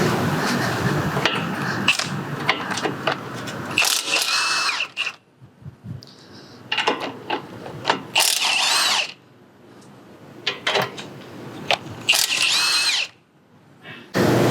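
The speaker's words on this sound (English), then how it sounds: "We need to go ahead and just take the impact and go ahead and get those removed." Impact wrench removing 16 mm nuts beneath a 2014-2018 VW Beetle, Golf or Jetta during CV axle replacement, loud close bursts of rattling hammering in several runs separated by short pauses, with clanks between.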